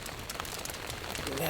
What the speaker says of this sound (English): Something about being inside of a warm tent, just listening to the rain.